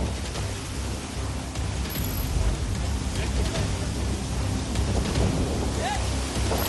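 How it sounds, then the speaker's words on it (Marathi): Pandavkada waterfall near Kharghar gushing hard, swollen by heavy monsoon rain, with a steady, loud, broadband roar of rushing water that fills the whole stretch without a break. "खारघरमधला हा पांडवकडा धबधबा मुसळधार पावसामुळे हा धबधबा आणखी प्रवाहित झालेला आहे"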